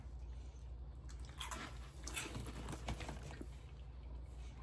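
Someone chews cheesy puff snacks, light, airy and crunchy, in a string of soft, close bites and crunches against a quiet background.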